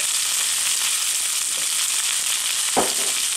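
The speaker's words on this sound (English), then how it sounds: "you're going to finish cooking in the butter and thyme" Ribeye steak frying in a pan with butter and thyme, giving a loud, steady sizzle throughout, with a brief clatter near the end.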